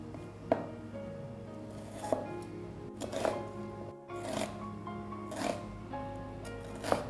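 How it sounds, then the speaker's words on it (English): A knife chops through a whole onion on a cutting board in a home kitchen, a slow series of distinct crisp cuts about one per second, close and moderately loud. "now we're gonna start chopping our toppings"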